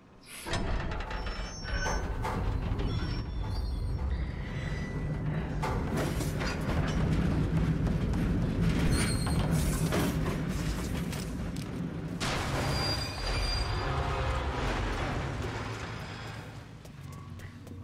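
A train in the 1930s-era game Mafia: Definitive Edition, a long, loud rumbling roar with rattling and clanking that swells and holds for most of the span, then fades slightly at the end.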